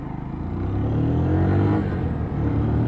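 A Lexmoto ZSB motorcycle engine pulls through the gears on a road ride, a close, steady, loud rumble that swells slightly as it accelerates, with no talking.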